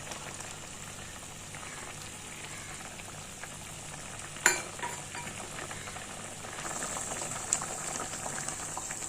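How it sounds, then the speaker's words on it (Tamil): Egg curry gravy bubbles at a gentle boil, a soft, steady simmering hiss and burble, broken by one sharp splash and a smaller plop later as eggs are poured in, with no voices. "இப்போ நம்ம ஒரு முட்டையாக உடச்சி வச்சுருந்ததை அப்படியே டிஸ்டர்ப் பண்ணாமல் அப்படியே ஊற்றிடலாம்."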